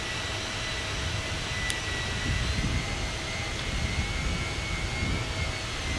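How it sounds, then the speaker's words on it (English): A Fenix Airbus A320's jet engines in Microsoft Flight Simulator give a faint, steady broadband whoosh with a thin sustained whine, recorded poorly and heard alone. "Now the engine sounds are not going to be sounding realistic because the recorder is terrible."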